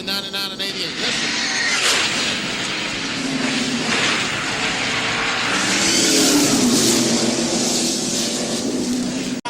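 NASCAR stock cars numbered 99 and 88 race at Darlington in the 1997 Southern 500, coming into contact. Their engines make a loud, continuous, roaring drone that swells and shifts across the whole stretch.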